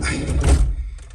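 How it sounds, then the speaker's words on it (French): A car door swings shut with a single dull thunk up close, followed by a short fade into near silence. "il faut fermer la porte"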